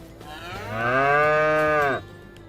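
A cow in the Farming Simulator 25 video game gives a single loud, drawn-out moo that swells, holds for about a second and cuts off cleanly, with no voices.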